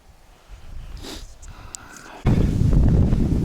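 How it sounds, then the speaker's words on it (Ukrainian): Strong wind buffets the microphone, starting as a low rumble and then bursting into a loud, roaring gust that continues. "погода помінялась раптово, вітер, не знаю. Вітер сумасшедший."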